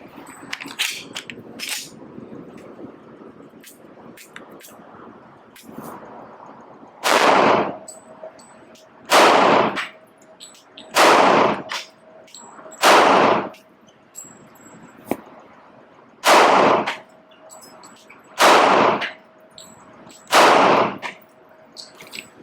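Kimber 1911 pistol gunshots ring out as about eight loud, sharp reports, spaced a second or two apart, after some quieter handling clicks at the start.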